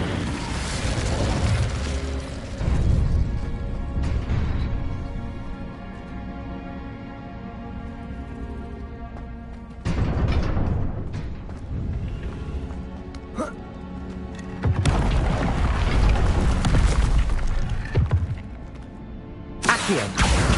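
An Incendio fire spell is cast repeatedly in Hogwarts Legacy, with loud whooshing, roaring fire blasts and booms in several bursts, a voice speaking between them.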